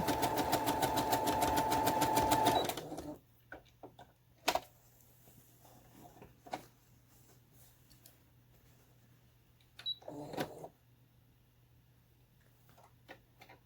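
A sewing machine runs in a fast, steady mechanical stitching burr for a few seconds, then stops, followed by quiet handling clicks and a brief second whir.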